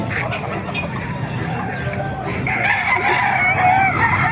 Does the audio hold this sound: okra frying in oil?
no